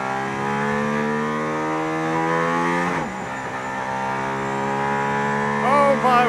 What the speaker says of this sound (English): I can't believe I'm sitting in the AMG ONE on a racetrack behind the Formula One safety car.